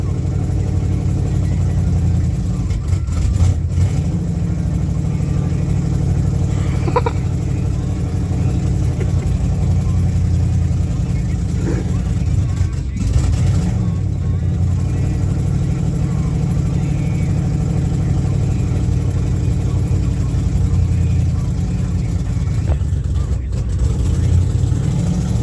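A clapped-out unibody car idles after a cold start, its engine a steady, loud mid-pitched drone that runs unbroken for the whole stretch, with a few faint knocks and rattles on top.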